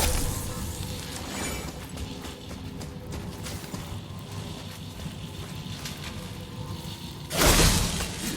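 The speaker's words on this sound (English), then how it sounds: "I will never get tired of shattering things with this." Objects shatter in the God of War PC game, a loud crash near the end standing out from a steady bed of game ambience and rumble.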